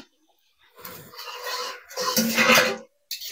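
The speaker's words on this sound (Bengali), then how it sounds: "দেখি ঢাকা খুলে আর একবার কিরকম হয়েছে মাংসটা" Lid being lifted off a pot of mutton braising on the stove, a close metallic scrape and clatter followed by a loud rush of sizzling, with a short knock at the end.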